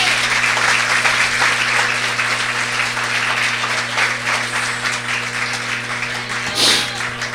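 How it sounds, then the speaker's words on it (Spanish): A church congregation claps loudly and continuously throughout, a dense, sustained wall of applause close by with a steady hum beneath and no clear speech. "Dale el aplauso a él, que él se lo merece"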